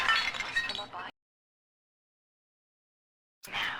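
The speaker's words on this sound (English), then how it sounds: "This, I think, is a porcelain tea service in the style of Louis XV." Porcelain tea service clinking and breaking in the video game Bioshock 2: a bright crash of shattering ceramic, a stretch of silence, then another burst of clinking, brittle pieces, close and with no voice.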